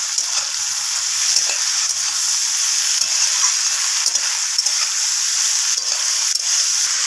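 Fish roe fries with long beans and turmeric in a pan while being stirred, an even, close sizzle broken by occasional scraping clicks from the spoon.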